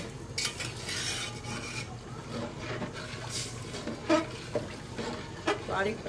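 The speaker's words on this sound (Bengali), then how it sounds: "কষানো হয়ে গেছে, তো এখন এই যে জলটা দিয়ে দেবো।" Water is poured into a pot of khichuri on the stove, with stirring and clinking of utensils over a soft sizzle while someone talks.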